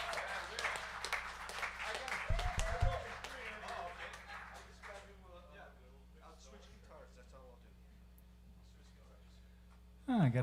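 Applause from a live concert audience follows the title track: loud, dense clapping for a couple of seconds that tapers into scattered claps and fades, with a voice speaking near the end.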